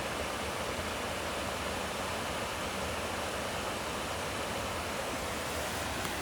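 Creek water flows steadily in the woods, a continuous broadband rushing wash that holds even and unbroken throughout, with no voices over it.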